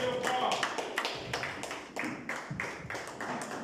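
A church congregation claps in a short burst of scattered, uneven hand claps that fade over a few seconds, heard from a moderate distance with no talking.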